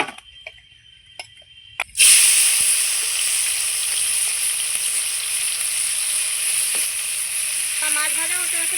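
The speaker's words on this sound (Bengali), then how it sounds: "কড়াইয়ে সামান্য একটু তেল দিয়ে দিচ্ছি আবার পুঁটি মাছটা ভাজার জন্য" Puti fish hit a little hot oil in a wok and a loud, steady sizzle bursts in after near-silence, then crackles on continuously; a voice briefly joins near the end.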